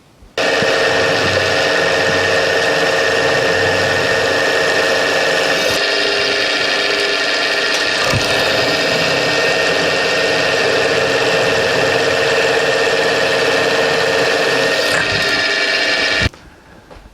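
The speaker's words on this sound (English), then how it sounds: "I'm gonna drill a series of 10 millimeter holes" A Bernardo lathe drills a series of 10 millimeter holes, giving a loud, steady machine whir with a brief shift midway before it stops near the end.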